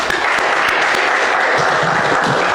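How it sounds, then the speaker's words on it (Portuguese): Church congregation clapping during a communion service, dense and loud, a continuous close wash of many hands for the whole stretch. "Por Senhor Jesus, uma linda salva de palmas"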